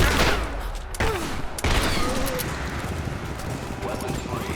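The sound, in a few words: gunfire in the video game Rise of the Tomb Raider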